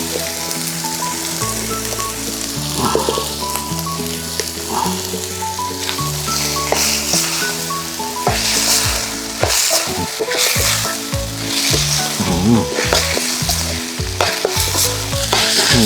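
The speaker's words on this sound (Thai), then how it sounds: "ผัดให้มัน หอม" Eel pieces stir-fry in a hot pan with homemade curry paste, a continuous loud sizzle broken by repeated scraping stirs of the spatula close by.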